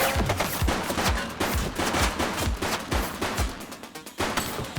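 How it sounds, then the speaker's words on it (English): Rapid bursts of police-game gunfire from The Precinct crackle close and loud, sharp repeated shots rattling in quick volleys across the whole stretch with brief gaps between bursts. "He's shooting!"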